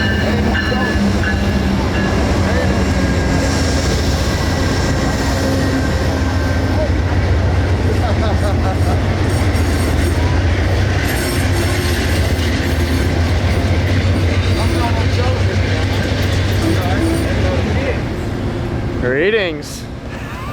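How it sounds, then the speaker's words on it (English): Amtrak Silver Star passenger train rumbling and clattering loudly at close range as it slows to a stop at Lakeland, Florida, with a brief squeal near the end. "the Silver Star glides to a smooth stop at Lakeland, Florida."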